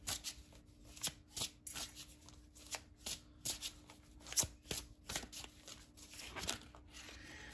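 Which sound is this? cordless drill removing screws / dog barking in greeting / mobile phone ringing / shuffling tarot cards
shuffling tarot cards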